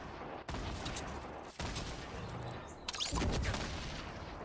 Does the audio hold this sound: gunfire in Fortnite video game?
yes